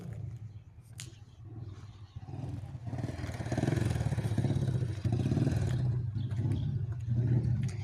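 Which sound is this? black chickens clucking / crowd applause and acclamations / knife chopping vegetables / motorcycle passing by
motorcycle passing by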